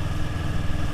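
A big motorcycle ridden on a road near Temanggung hums with a steady low engine drone, close and continuous with no pauses.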